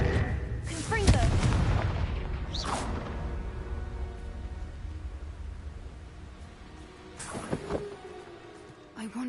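Spell-combat explosions in the video game Hogwarts Legacy: a few loud booms and whooshing blasts, spaced out and close, with game effects and a rumbling undertone; a voice calls out spell names.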